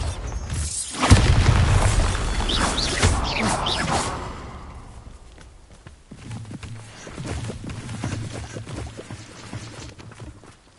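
A Bombarda spell explosion in the video game Hogwarts Legacy lands as a sudden loud boom with a shattering burst. The blast decays over several seconds into quieter rumbling and scattered debris sounds.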